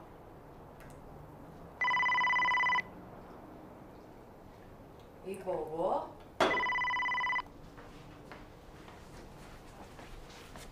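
A telephone rings in two electronic bursts, separated by a short pause in which a voice briefly mutters, all over faint background noise.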